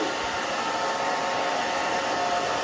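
A hair dryer blows continuously at a steady, loud, close roar while styling a spiky pixie haircut, with no talk over it.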